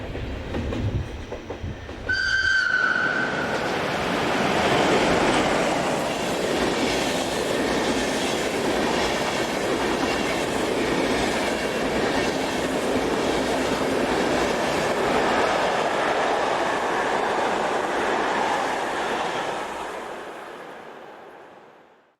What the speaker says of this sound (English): Our second shot of 11141 sees it passing through Burgdorf station